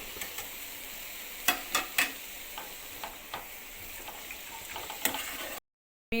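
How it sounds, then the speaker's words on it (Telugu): Cut amaranth stalks are dropped into a pan of frying onions, with a low steady sizzle and a few sharp clicks and stirring knocks from the utensil. "ఆనియన్స్ ఈ విధంగా ఫ్రై అయిన తర్వాత మనం కట్ చేసుకున్న తోటకూర కాడల్ని కూడా ఇందులో వేసేసుకుందాం"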